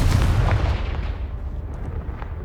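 A Confringo fire spell from the Hogwarts Legacy video game goes off in a heavy, booming blast, loud and close, with a deep rumble that rolls on and slowly fades, with no talk over it.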